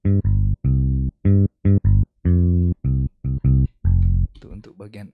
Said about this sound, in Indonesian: Oke, ini suara bass-nya.